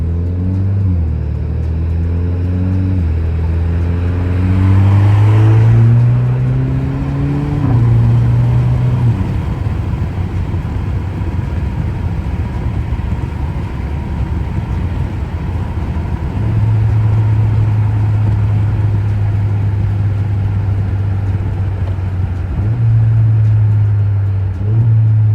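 An Alfa Romeo Giulia engine revs hard on a late-night drive, its pitch climbing in steps as the manual gears are shifted, then settling into a steady, loud drone before rising again.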